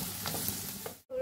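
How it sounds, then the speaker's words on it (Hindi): Two freshly chopped onions sizzle gently in a pan, a close, steady frying hiss with a couple of stirring scrapes, cutting off briefly near the end before the sizzle returns. "इधर मैंने दो कटे हुए प्याज लिए हैं फ्रेश, इसको थोड़ा सा हल्का हल्का भूनना है"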